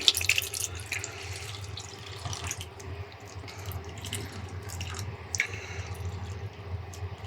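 Water runs from a tap and splashes into a shallow baking tray for oven-baked mackerel, a steady trickle with brief clinks and handling noises over a low background hum.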